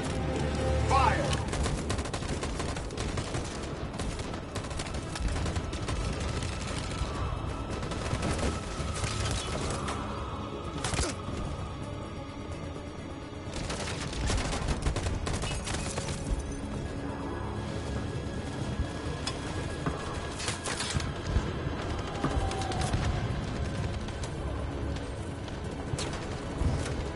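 Gunfire volley from a firing squad in Detroit: Become Human, sustained and dense across the whole stretch with rolling shots and booms, fairly loud, with faint voices and game sounds underneath.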